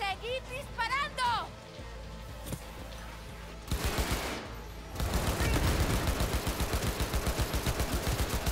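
Gunfire in the video game Cyberpunk 2077: after a shouted voice and a lone shot, a single burst, then rapid sustained automatic fire hammers on in a dense, loud rhythm to the end.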